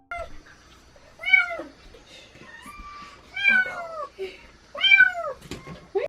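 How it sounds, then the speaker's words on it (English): Recorded mother-cat meows play from an iPod: three or four distinct, drawn-out, rising-and-falling calls, clear and fairly close, with quiet gaps between them. "I was using my iPod to play mama cat noises"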